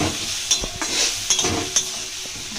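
Chopped onions frying in hot oil for a bhola fish kalia, a close, steady hiss broken by a few sharp scraping stirs of a spatula.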